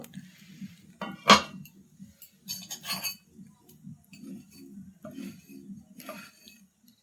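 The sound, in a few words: lid taken off a pan while making rice-flour patishapta pitha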